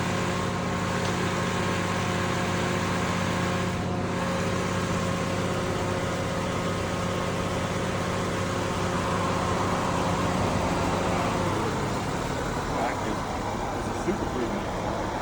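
A 2008 Toyota Corolla idles with its air conditioner running, a steady low engine hum and fan whir heard from close by, the tone shifting slightly near the end.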